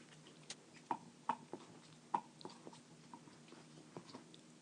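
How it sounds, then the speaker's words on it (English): A puppy chews on a bone close by, giving scattered soft clicks and gnawing ticks at an irregular rhythm over a quiet room background, with no talking. "it's my puppy chewing on a bone"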